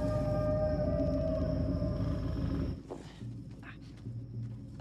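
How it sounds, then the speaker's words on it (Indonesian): Long sustained wolf howls drift and waver over a dense rumbling background, then cut off, leaving quieter rustling and faint low hum. "tiba-tiba saja terdengar suara manusia disertai lolongan serigala"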